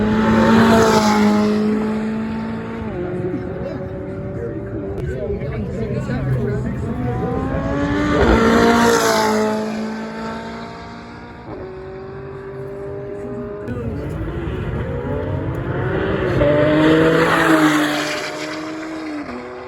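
McLaren race cars, including a 570, sweep past at a wings-and-wheels show in Utah. Three loud engine passes rise and fall with a shifting pitch, while voices talk underneath.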